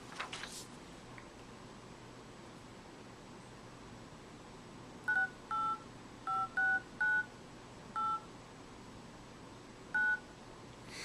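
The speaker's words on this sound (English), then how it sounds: "so let's make a phone call here." A telephone number being dialed, eight short, clear touch-tone beeps in an uneven sequence over a quiet line hiss, with no talk.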